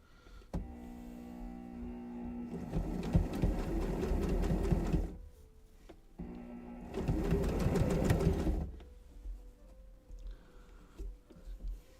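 A sewing machine back tacks a skirt seam in two loud bursts of rapid stitching, each a couple of seconds long, separated by a quiet pause, with light handling noises between.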